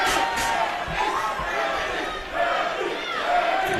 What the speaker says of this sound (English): the crowd shouting Manny.